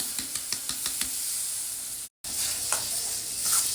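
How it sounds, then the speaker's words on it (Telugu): Tomato pulp frying in oil with cumin powder and salt, a close, steady sizzle with a few soft knocks of a spoon stirring the pan near the start, and a brief dropout midway. "ఇప్పుడు టొమాటోల్లో పచ్చివాసన పోయేదాకా నూనె బయటకు వచ్చేదాకా వేయించుకుందాము"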